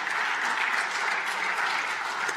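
Steady applause fills a session hall of the Slovak National Council, a continuous dense patter of many hands clapping at even loudness throughout, with no voices over it.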